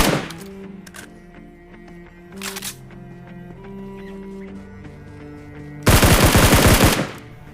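Gunfire in the mobile battle-royale game PUBG Mobile: brief bursts near the start, another short burst, then a loud sustained automatic burst toward the end, all over steady in-game background tones.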